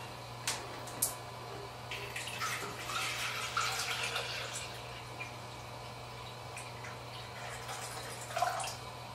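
Water poured into a container to mix C41 film developing chemistry, faint splashing and trickling with a few drips and small knocks over a low steady hum.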